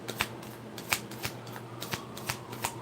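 A deck of tarot cards is shuffled up close with quick, irregular riffling flicks and soft snaps. The sound is quiet and there is no speech.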